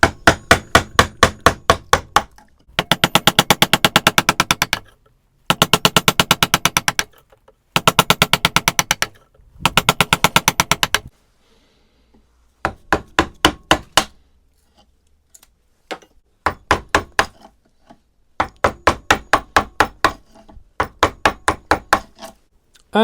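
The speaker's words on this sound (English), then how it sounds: "keep working the chisel all the way through" Rapid bursts of sharp mallet blows on a chisel, repeated in quick trains with short pauses between, crisp and close, cutting a neck pocket into a wooden guitar body.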